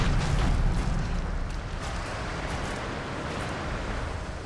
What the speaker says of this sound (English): More wind.